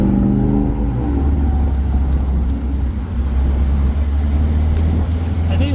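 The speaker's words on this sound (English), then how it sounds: "So with this little 1600 Volkswagen motor in them, they run pretty good" A 1929 Mercedes-Benz SSK replica with a 1600 Volkswagen motor drives along, its engine giving a loud, steady droning hum with road and wind noise, continuous and close throughout, with a voice faintly present.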